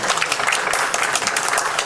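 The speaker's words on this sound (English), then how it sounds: "a huge round of applause" A conference audience gives a round of applause, dense continuous clapping from many hands, loud and close, with no talking.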